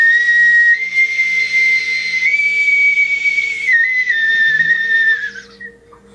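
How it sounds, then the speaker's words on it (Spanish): A pre-Columbian whistling water vessel holds a single loud, steady whistle tone, stepping down in pitch a few times before fading out near the end. "empujando el aire hacia afuera, y a través de un silbato produce un silbido"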